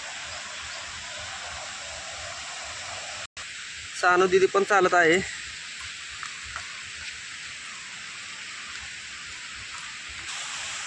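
Sawatsada waterfall at Chiplun in the rain: a steady, broad rushing hiss of falling water that fills the whole stretch, with a person speaking briefly partway through.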